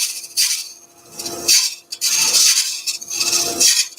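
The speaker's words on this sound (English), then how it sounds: "if you're gentle with it, you can get a really nice cut and you'll get these shavings come off" Wood-turning tool cutting shavings from a pencil-crayon epoxy resin vase blank on a lathe, giving three loud, rasping scraping bursts with short gaps between them and no talk.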